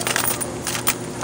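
Quarter coins drop and jingle together in a few quick metallic bursts, close and bright, with no speech.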